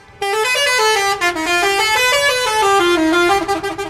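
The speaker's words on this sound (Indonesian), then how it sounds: "dulu dikenal sebagai klakson telolet" An Indonesian bus telolet horn plays a rhythmic melody of bright tooted notes that step up and down in pitch, loud and close, ending in a few quick staccato blasts.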